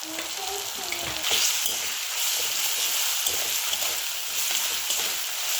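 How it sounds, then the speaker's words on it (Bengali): Red and green chili paste, ginger paste and spices frying in oil for a fish curry, a loud steady sizzle with intermittent stirring scrapes of a spoon against the pan. "দিয়ে ভালো করে মশলাগুলো কষিয়ে নিচ্ছি"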